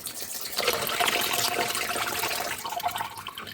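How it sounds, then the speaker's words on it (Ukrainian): Marinade poured off green tomatoes into a pot, a continuous splashing and trickling stream of liquid that swells at about half a second and carries on steadily, heard near and alone. "Зливаємо наш маринад в кастрюльку"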